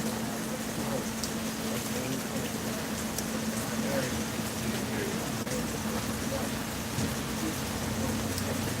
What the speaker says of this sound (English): Man, rainy days out here.